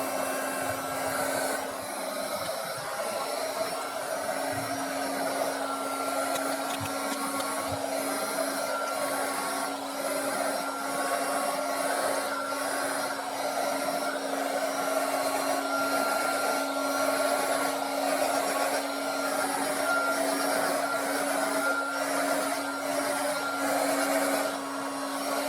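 A heat gun blowing hot air to shrink heat shrink wrap onto a 3S-4S LiPo battery, a steady close whooshing blower drone with a constant motor hum, unbroken for the whole stretch and no talk.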